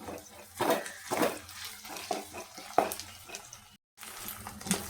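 Green chillies, curry leaves and ginger-garlic paste sizzle in hot oil in a pan, with sputtering bursts as ingredients are dropped in and stirred, broken by one brief pause.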